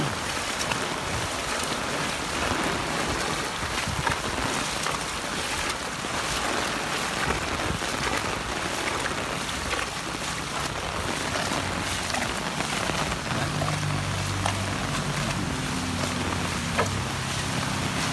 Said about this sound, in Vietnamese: Đây là đang mưa được nói chung là cũng được nửa tiếng rồi đó